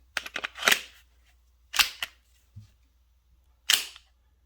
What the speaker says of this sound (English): you just line that up right there and it's going to slide right back on, release